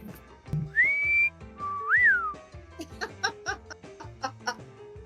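Sharp whistled notes slide upward and bend, followed by a quick series of short chirpy tones, loud and close with no talking.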